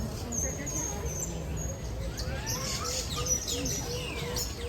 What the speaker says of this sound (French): Ça, ici, c'est les oiseaux.